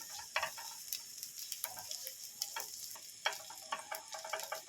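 Onion and cashews frying lightly in a pan give a soft, continuous sizzle, with intermittent small ticks and clicks from stirring scattered over it, quiet and close, with no speech.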